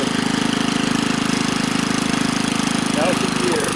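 A Husky engine runs at high speed out of gear, a loud, close, steady pulsing drone that stays even throughout, with a slight change near the end.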